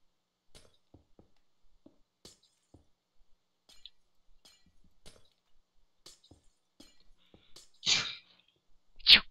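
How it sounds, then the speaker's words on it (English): A small, stifled sneeze bursts out near the end, with a second quick burst just after, following several seconds of faint scattered clicks. "That was the weirdest sneeze ever."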